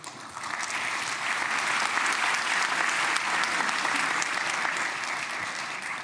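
A packed Knesset plenary breaks into sustained, dense applause during a special session for Trump's address in Israel, holding steady and loud for about six seconds.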